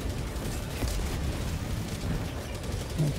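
Airstrikes explode in the video game Helldivers 2, a continuous rumbling barrage of heavy blasts with deep low booms rolling over each other without pause.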